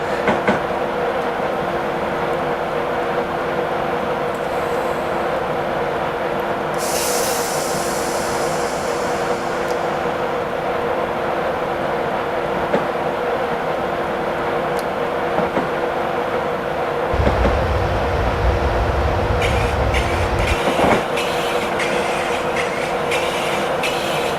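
A VTEC train in Train Simulator 2017 runs steadily along the track with a continuous rumbling drone, punctuated by brief higher squeals and clicks of wheels on rail.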